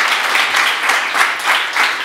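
Studio audience applauding a guest on a TV show, a steady dense burst of clapping heard alone throughout.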